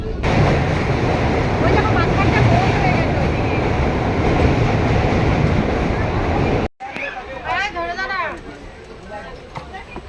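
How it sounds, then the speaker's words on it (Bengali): A train running through green village countryside near Tamluk gives a loud, steady rumble for about six and a half seconds. It then cuts to a quieter stretch where a voice is heard. "গ্রামের ওপর দিয়ে, সবুজের ওপর দিয়ে কিন্তু ট্রেন চলেছে।"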